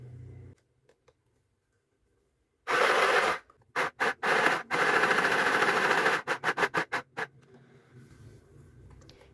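A portable mini sewing machine stitches a pillowcase in a long rattling run, then a string of short stop-start bursts, fairly quiet and close with no speech.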